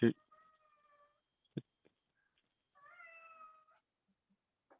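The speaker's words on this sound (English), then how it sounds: "I hear your cat." A cat meows twice, faint and nearby, with a quiet room and a couple of small knocks between the calls.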